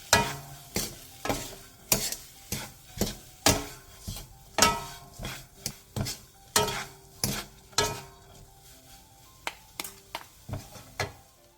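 A spatula scrapes and stirs a side dish in a pan as sugar is sprinkled in and melted. Regular, sharp scraping strokes repeat about twice a second over a faint, quiet sizzle.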